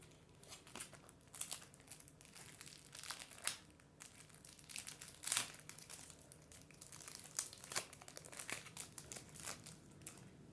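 A trading-card package being opened by hand makes soft, close crinkling and crumpling, with bursts of rustling and a few sharper tearing sounds, quiet and without talking.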